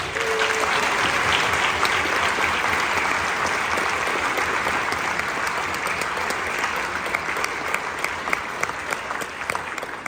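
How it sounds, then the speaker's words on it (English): Sustained audience applause fills a concert hall at a 2025 NorCal honors concert band presentation, a dense, steady wash of many hands clapping for the students' parents that tapers slightly near the end, with no voices over it. "you guys have a round of applause for your parents and supporting you in these activities"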